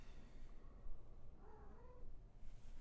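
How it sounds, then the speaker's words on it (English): A pet cat gives a soft, short meow midway, faint and close, over low rumbling room noise and handling sounds. "Look, this is my cat. She is saying hello."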